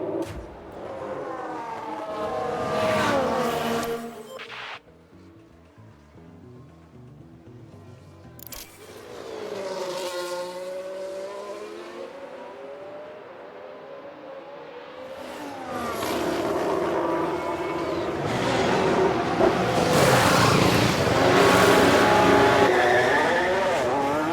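Race cars in the F1 Manager 22 video game, set in a 1991 season with a Benetton team, roar past with engines rising and falling in pitch, several loud sweeping passes separated by a quieter lull.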